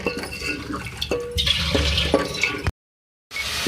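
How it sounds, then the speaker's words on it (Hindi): Water poured into masala frying in a pan, a wet sizzling hiss with light metallic clinks of a spoon against the pan, loud and close, then a brief silence before the sizzle resumes. "इसके साथ भुनाई में मैं थोड़ा सा पानी ऐड करूँगी ताकि हमारा जो मसाला अच्छी तरीके से भुन जाए।"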